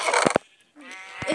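Sheep in the video game Minecraft bleat in short, fairly close bursts: a noisy cluster at the start, then a brief quiet gap, then a wavering bleat.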